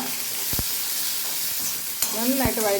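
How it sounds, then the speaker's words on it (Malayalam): Sliced onions and shallots sautéing in a pan, a steady loud sizzle with a few sharp clinks of a stirring utensil against the pan. "ഒരു സവാള വട്ടത്തിൽ അരിഞ്ഞിട്ട് കൊടുത്തേക്കുവാണ്. അതിൻ്റെ കൂടെ തന്നെ നമ്മൾ ഉള്ളി, ചെറിയ ഉള്ളി, അതും കൂടെ ഇട്ട് കൊടുത്ത് നന്നായിട്ട് വഴറ്റി"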